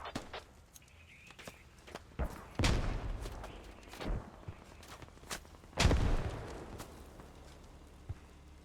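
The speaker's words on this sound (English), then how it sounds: "he's going to launch a grenade in there" Squad video game combat: two loud thumping blasts of a launched grenade, one near the middle and one later, amid scattered shots and footsteps.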